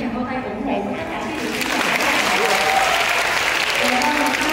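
Steady crowd applause for performers on a stage in Vietnam fills the space, with a few voices and cheers mixed in underneath, holding at an even level throughout.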